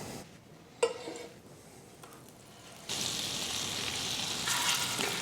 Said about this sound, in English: I will cook the polpettine in my electric skillet, and I'm adding some olive oil and butter